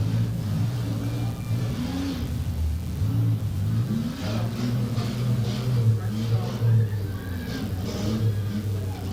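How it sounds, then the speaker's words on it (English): Demolition derby car engines rev and strain with a rough, steady mid-pitched growl throughout, a car with flat tyres struggling to move forward, while an arena announcer talks over it. "and the 41 of Billy Click, he's having trouble getting that machine to go forward."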